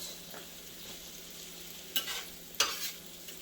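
Sausage sizzles softly in a skillet over medium heat, a faint steady crackle broken by two sharper scraping stirs near the end.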